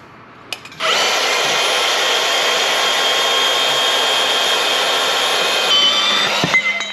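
Bandsaw cutting steel for a mini truck modification: after a couple of faint clicks the saw starts, and a loud, steady, high whine of blade on metal runs unbroken for about five seconds, then shifts slightly and winds down.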